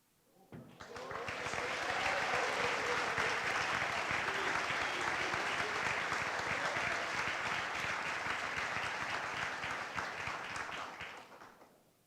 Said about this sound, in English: please give another round of applause for all of our awardees